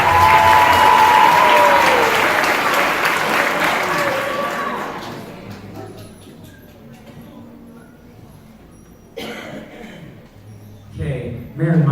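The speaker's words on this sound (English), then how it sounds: "We give her a round of applause." Loud audience applause at a middle school spring band and choir concert, dense clapping that fades out over several seconds into a quiet room with a few brief bumps and rustles afterward.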